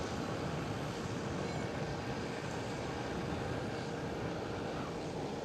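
Jet airliner arriving on runway 27 at Amsterdam Schiphol airport, a steady broadband roar filling the whole stretch at constant loudness, with no voices.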